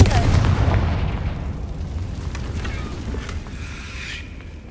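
Fire spell blast in the video game Hogwarts Legacy, a loud booming burst at the start that rumbles and fades over several seconds.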